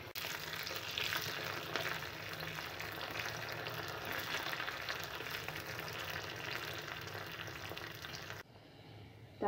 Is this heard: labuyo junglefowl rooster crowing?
no